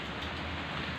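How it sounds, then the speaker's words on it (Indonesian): Light drizzle of rain, a steady soft hiss of fine drops falling, continuous and even throughout with no voices. "di dalam keadaan yang gerimis"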